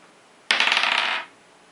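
A die is tossed onto a table during a Dungeons & Dragons Wrath of Ashardalon board game, giving one brief clattering roll that rattles for under a second and then stops, close and alone.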